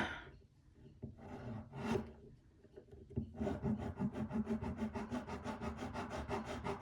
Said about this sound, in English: So I'm just filing in between the black marks.